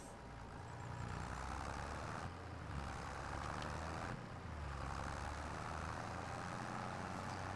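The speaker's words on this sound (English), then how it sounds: "Kind of would like to be able to hear the tractor some" A tractor engine in the farming video game Farming Simulator 25 drones steadily throughout, a low continuous rumble with a dense mechanical hum, slight dips at two points but otherwise unbroken and without talk.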